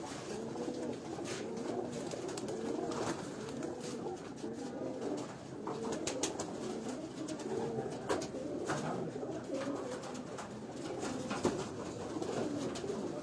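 Pigeons on a Karachi rooftop coo repeatedly in soft, rolling phrases, several birds overlapping at moderate distance against a steady outdoor background.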